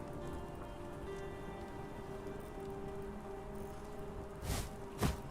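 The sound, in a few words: rain falling in video game Hytale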